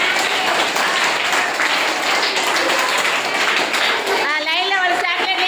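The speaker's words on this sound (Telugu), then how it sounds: "క్లాప్." Children clap together in a noisy room, a dense burst of loud, fast applause that thins near the end as voices break through.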